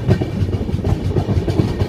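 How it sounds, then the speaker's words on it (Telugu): A Mahakumbh Mela special train running from Jabalpur to Vijayawada rumbles loudly, wheels knocking in a rapid rhythmic clatter against the rails from inside the moving carriage. "నా లైఫ్లో వర్స్ట్ ట్రైన్ ఇదే."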